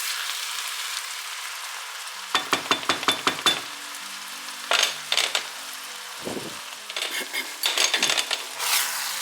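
Minced meat for pastitsio sizzling in a pan, with a burst of sharp metallic spoon taps against the pan, scraping stirs and crackling frying, moderately close and without talk.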